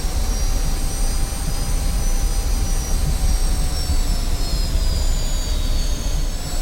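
A steady, loud jet engine roar from an F-86F Sabre taxiing in the DCS World flight simulator, a continuous whine and rumble with faint high tones drifting slowly and no talk over it.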